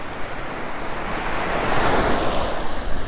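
Ocean waves washing onto a Sanibel beach, a steady loud roar of surf that swells slightly midway, with wind buffeting the microphone and no voices.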